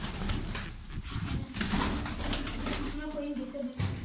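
Pigeons cooing and bumping about while being handled and sorted into males and females, their calls and scuffling heard close up under steady talk from the men holding them.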